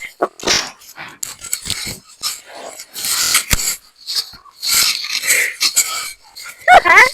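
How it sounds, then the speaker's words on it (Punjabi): Dogs growl, whimper and bark in short, irregular bursts amid a scuffling rural scene, loud and close, with people talking in between. "ਇਹ ਕੁੱਤੀਆਂ ਬੰਨੇ"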